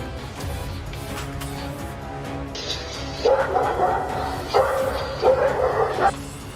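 A guard dog barks at a man near a motorcycle on security footage, with repeated sharp barks in the latter half over a constant background hum.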